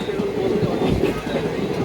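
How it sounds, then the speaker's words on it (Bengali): The Kanchanjangha Express pulls out of Rampurhat station with a steady low rumble and rolling rail noise, close and continuous, while voices talk faintly in the background. "আর এই কিন্তু রামপুরহাট স্টেশন থেকে ট্রেন ছেড়ে দিল"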